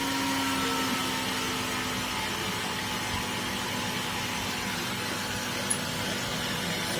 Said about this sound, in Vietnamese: Tiếng kêu của quạt nó cũng chậm lại các bạn ha.